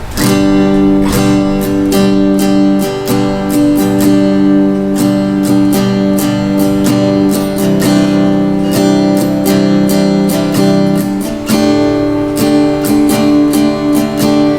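Steady guitar strumming in a repeating rhythmic pattern, bright chord strokes recurring evenly throughout, loud and close with no voice.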